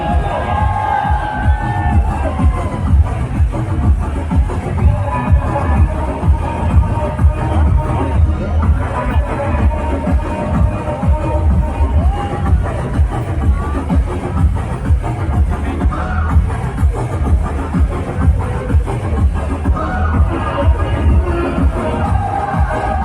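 A festival crowd cheers and shouts continuously as a decorated elephant arrives in procession at the Irunakkara Pooram temple festival, a dense loud roar of many voices with no break.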